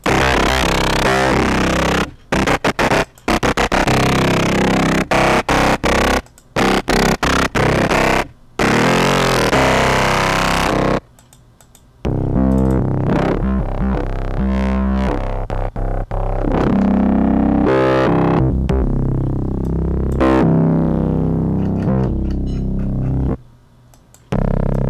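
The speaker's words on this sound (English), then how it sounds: "Right now it's just raw distortion, and now it's pure grittiness." A harsh, heavily distorted synth bass made on the Zebra2 synthesizer plays loud and dense, its gritty buzzing tone shifting and cutting out in short gaps throughout.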